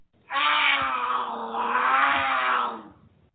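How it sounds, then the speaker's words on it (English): A cougar growl used as a sound effect in an advertisement, one loud, close, sustained snarling roar of about two and a half seconds, heard alone. "Do you have cougars on your porch swing?"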